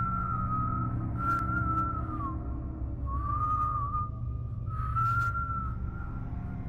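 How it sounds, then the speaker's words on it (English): A clear, sustained whistle from outside a house at night during a storm repeats three times in long, slightly wavering tones over a low steady hum, with pauses between each call. "A whistle, coming from outside the house."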